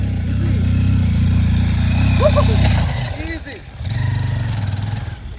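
An XR150 or CRF motorcycle engine thrums steadily while riding uphill, dips briefly, then revs back up, with faint background voices and traffic around it.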